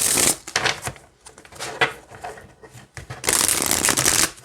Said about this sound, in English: this is not a bad deck to shuffle with at all